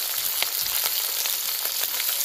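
Chopped spring onions fry in hot oil with a loud, dense, continuous crackling sizzle heard up close, without any voices.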